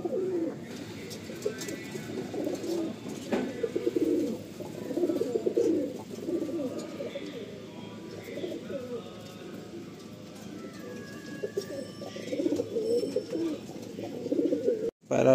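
Pigeons in a loft coo in a low, steady, rolling murmur throughout, close by, with a few brief rustles and a sharp knock near the end.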